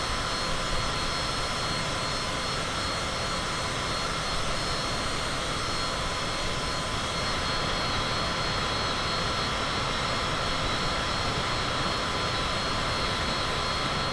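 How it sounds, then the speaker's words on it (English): A small jet's engine in Microsoft Flight Simulator, a steady loud whine and roar holding constant throughout with a faint high tone over it, with no speech. "What a great little jet this is."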